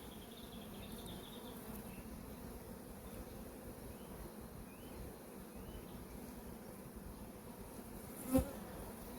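Honeybees swarm over a brood frame lifted from an open hive, a dense, steady buzzing hum holding close and even throughout, with one brief sharp click near the end.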